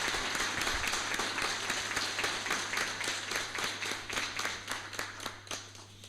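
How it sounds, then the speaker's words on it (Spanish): Audience applause at a rural youth vegetable-growing seminar in Bío Bío fills the room after a presentation: dense, steady clapping from many hands, loud and close, with a constant low electrical hum underneath, gradually thinning toward the end. "les quiero pedir un gran aplauso para don Pablo por esta tremenda presentación"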